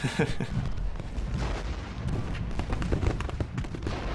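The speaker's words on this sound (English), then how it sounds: "He's still shredding through my guys though, with all his artillery." Artillery fire in the Ultimate General: Gettysburg video game sounds as a dense, continuous rumble of cannon booms and sharp reports, loud and overlapping, with battlefield noise throughout.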